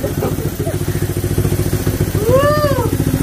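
A Honda Click/Vario motorcycle engine idles close and loud with a steady, fast pulsing throb throughout, a short rising and falling whine near the end, and faint voices in the background.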